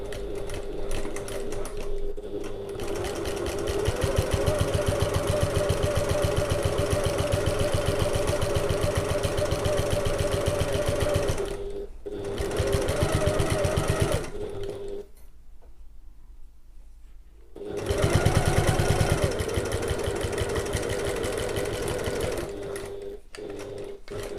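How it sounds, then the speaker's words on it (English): A sewing machine stitches down the side of a zip pouch, running in long steady buzzing bursts with a couple of brief pauses and a longer stop midway before starting again. "I'm going to sew down the other side exactly the same way."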